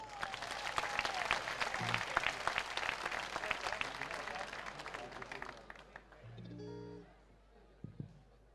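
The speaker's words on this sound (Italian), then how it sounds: "L'applauso!" Audience applause after an accordion performance of Il Carnevale di Venezia at a seaside event in Gatteo a Mare, dense clapping for about six seconds before fading out as a few tones and some noise follow.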